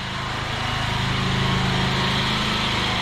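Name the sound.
food truck engine noise passing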